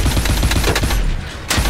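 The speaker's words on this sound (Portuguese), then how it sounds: "Eu tô atirando, rapaz, eu tô atirando" Rapid automatic gunfire in the video game Call of Duty: Advanced Warfare, a dense run of close, loud shots that stops briefly, then a final burst.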